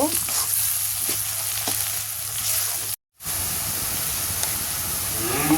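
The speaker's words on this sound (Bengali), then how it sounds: "আমি পেঁয়াজটা খুব ভালোভাবে ভেজে নেব।" Onions frying in a pan for a duck meat bhuna make a loud, steady sizzle with faint stirring scrapes. The sound cuts out for a moment partway through, then the frying resumes.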